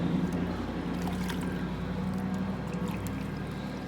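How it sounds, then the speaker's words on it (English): An object is dunked and soaked in a bucket of water, giving a continuous close sloshing and gurgling of water that stays fairly steady throughout. "dunking it in the bucket would be better"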